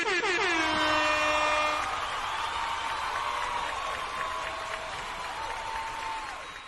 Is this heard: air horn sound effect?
yes